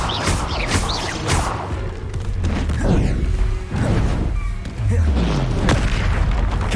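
A Confringo explosive spell blasts in Hogwarts Legacy with heavy booming impacts and whooshes, several loud bursts in quick succession amid combat noise, with brief shouted voices mixed in.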